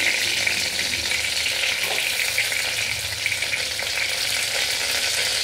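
Steady, loud sizzling and crackling of a bay leaf frying in hot oil, continuous and close, with no voices.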